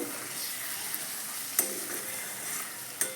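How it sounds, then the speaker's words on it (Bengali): A spoon stirs a pointed gourd and yogurt curry in a pan on a low flame, with a steady close sizzle broken by a few scraping strokes and no voices. "এবার একটু ঢাকাটা খুলে নেব খুলে এটা একটু নেড়ে দেব"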